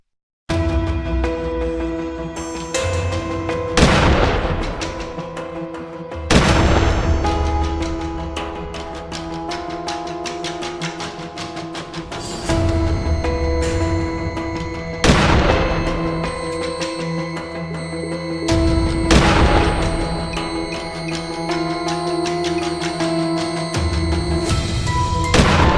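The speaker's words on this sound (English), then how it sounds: "I raised my rifle and fired, bringing it down" Rifle shots fired at wild boar in open Texas farm country, several sharp booming reports spaced seconds apart over a steady background of music-like ambience, with no talking.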